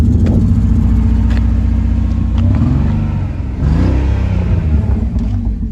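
A car engine that is misfiring revs loudly up close, its rough, uneven drone rising and falling in pitch as the throttle is blipped, with no talking.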